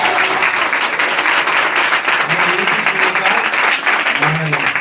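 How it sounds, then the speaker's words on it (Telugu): A church congregation at a watchnight service claps loudly, with steady, dense applause filling the hall throughout. "ఒక్కసారి గట్టిగా చప్పట్లు కొడదామా?"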